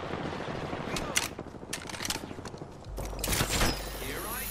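Scattered gunshots and fusillade crackle at a distance in the Apex Legends video game, mixed with mechanical clicks and faint speech in the background.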